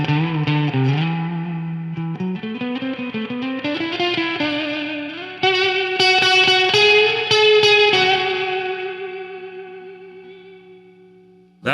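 A sustained electric guitar tone through a tube amp rings out with gritty overdrive and a reverberant tail, notes sliding and swelling before fading away.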